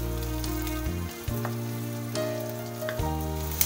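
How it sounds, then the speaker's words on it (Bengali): Ginger frying in a pan for a paneer masala, a steady close sizzle with a few soft stirring clicks and a faint background hum, no talk. "এরপর দিয়ে দেবো হচ্ছে আদাটা। একটু ভালো করে ভাজতে হবে।"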